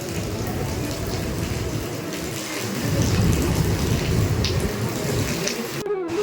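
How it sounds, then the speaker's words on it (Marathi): Heavy rain pours down at a seaside temple in Ganpatipule, Ratnagiri, a dense, loud, steady roar of falling water that swells slightly midway, with a brief handling noise near the end. "पाऊस राहू शकता किती जोरात आलेला आहे"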